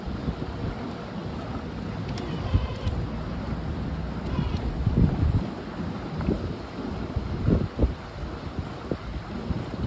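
Epropulsion Navy 6.0 Evo electric outboard motor running at 4000 watts on a Corsiva 475 boat, a low steady drone mixed with wind buffeting the microphone and water noise, fairly quiet with occasional louder gusts.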